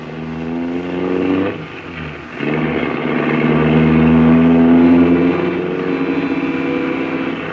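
A car engine drones steadily and revs up as the vehicle speeds through narrow streets in an old-time radio drama, the motor loud and close, rising in pitch, with no voices over it.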